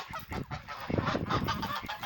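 A cluster of waterfowl honks and quacks repeatedly, close and fairly loud, overlapping in a noisy chorus.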